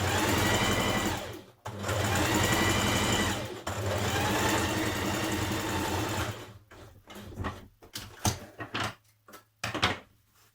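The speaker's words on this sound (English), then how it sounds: "we're going to stitch 1 centimetre seam here" A sewing machine runs steadily, stitching a 1 cm seam on a Simplicity 1254 coat pocket, with two brief pauses before breaking into short, stop-start bursts near the end.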